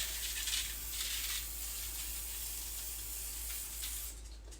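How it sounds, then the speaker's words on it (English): Several short hissing bursts of aerosol cooking spray onto baking papers for a brownie pan, close by and fairly quiet, with brief pauses between them over a low steady hum. "So now I'm just going to spray the papers."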